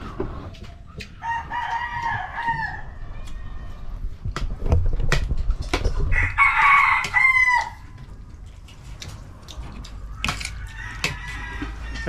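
Rooster crowing repeatedly at a farmyard, two or three drawn-out cock-a-doodle-doo calls with scattered clucks and clicks between them over a low background rumble.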